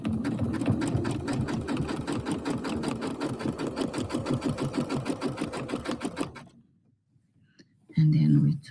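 A sewing machine stitching decorative thread into fabric runs in a fast, steady mechanical rhythm for about six seconds, stops briefly, then starts again, with a voice talking over it.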